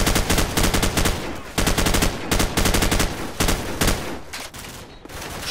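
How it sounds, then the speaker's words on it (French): Relentless gunfire and machine-gun bursts fill a Call of Duty 4: Modern Warfare firefight in a marsh, with rapid, loud volleys that pause briefly and then resume. "Ça tire dans tous les sens."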